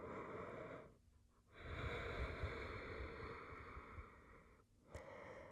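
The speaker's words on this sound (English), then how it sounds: "that soft ocean breathing, little constriction through the throat." Slow, steady yoga ocean breathing with a soft, hissing rasp of air drawn through a constricted throat, audible in long continuous waves with brief pauses between.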